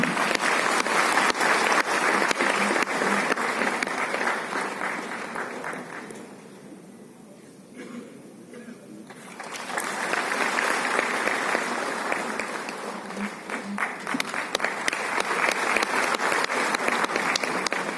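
An audience applauds loudly at a CPWD 170th foundation day ceremony. The clapping is dense and sustained, dips into a short lull midway, then swells again and carries on to the end.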